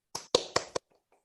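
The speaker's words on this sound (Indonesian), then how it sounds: "kita beri tepuk tangan dulu" Four sharp hand claps ring out in quick succession in a classroom, close and crisp, followed by near silence with a few faint rustles.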